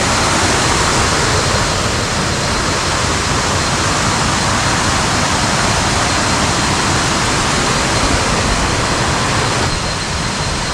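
A steady, loud roar of rushing water from a waterfall after rain, in Pha Charoen Waterfall National Park, Thailand, fills the whole clip, with no voices.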